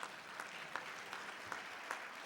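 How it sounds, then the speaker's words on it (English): A synagogue congregation at Shabbat services gives a light, thin round of applause, soft and distant, with scattered claps sustained evenly throughout. "at least I got a tepid clap at this point"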